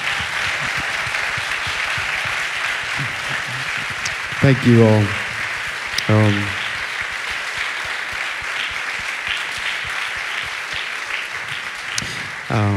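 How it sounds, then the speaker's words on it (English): Audience applause for panelists at a discussion event, steady crowd clapping throughout, with a speaker briefly talking over it. "let's give a round of applause to our panelists here today"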